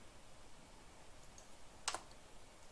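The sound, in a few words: mouse click on start button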